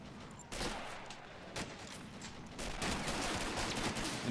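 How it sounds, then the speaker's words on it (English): Bursts of MP40 submachine-gun fire in a Battle of the Bulge video game, rattling out in short volleys over a steady background of battle noise, with a sharper crack near the middle and a heavier sustained stretch toward the end. "Look at that MP40 just firing down in between the"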